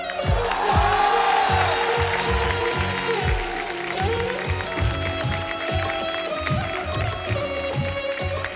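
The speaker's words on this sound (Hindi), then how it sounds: "आप सबकी जोरदार तालियों के बीच" A large TV comedy-show studio audience claps steadily with scattered cheers, loud and continuous, while music and a host's voice carry on underneath.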